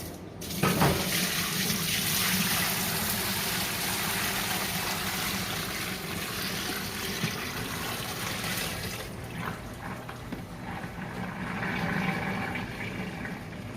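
Running water splashes and gurgles steadily in a sink as black mohair fleece from an Angora goat is washed, rinse water sloshing continuously throughout with no voices.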